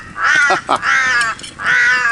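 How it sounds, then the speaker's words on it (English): A crow caws three times in a slow series of harsh, drawn-out calls, close and loud, outdoors at a campfire where curried mince jaffles are cooked in the coals. "If it's not the galahs, it's the crows."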